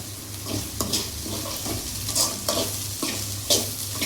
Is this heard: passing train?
no